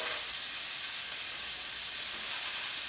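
Onions fry in a pan for a mushroom spinach risotto, a steady close hiss and sizzle with no talk.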